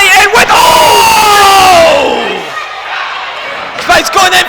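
A loud wrestling-event crowd roars for wrestler Spike Tierney, a single shouting voice rising over the noise before it fades, then a short burst of renewed noise at the end.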